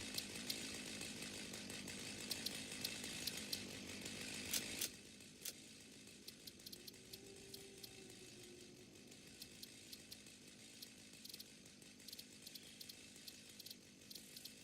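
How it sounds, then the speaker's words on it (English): A chainsaw in the video game Satisfactory runs loud and steady for about five seconds, then cuts off, leaving quieter mechanical clicks and faint ticking. "I got a chainsaw"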